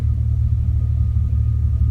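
BMW E46 330Ci Clubsport engine held at about 2500 rpm during a loaded battery test, a steady close hum and rumble with no change in pitch.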